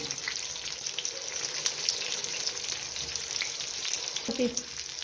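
Stuffed green chillies frying in hot oil in a pan, a continuous bright hissing sizzle with a brief clatter near the end, close and steady.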